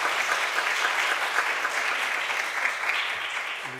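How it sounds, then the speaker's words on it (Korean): A church congregation applauds in welcome during a Sunday worship service, steady broadband clapping from a crowd sustained throughout, fairly close and full, with no voices over it. "우리 박수로 환영하겠습니다"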